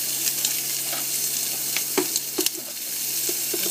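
Bacon and corn sear in a hot pan, a steady hiss of frying with occasional sharp pops and stirring scrapes, close and fairly quiet.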